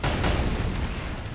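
A loud, heavy boom fills the short clip, with deep rumbling blasts overlapping like rapid cannon fire from a video game.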